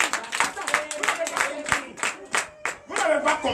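A church congregation claps and cheers during a Sunday teaching service, with dense, irregular handclaps and crowd voices rising and falling in waves over about four seconds.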